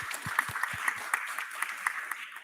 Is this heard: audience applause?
yes